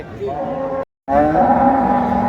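A Friesian dairy cow at a cattle market gives two loud, close moos separated by a short gap, each a steady low drawn-out bellow.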